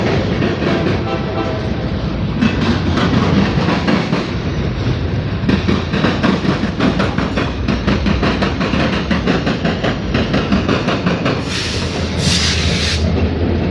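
A CSX freight yard locomotive rumbles past close by, steady heavy rolling noise with rhythmic clicking of wheels over rail joints, loud throughout.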